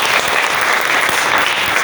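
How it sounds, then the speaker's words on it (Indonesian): A class of teacher trainees applauds a student, loud, dense clapping that stays steady and close throughout. "beri tepuk tangan untuk Dika"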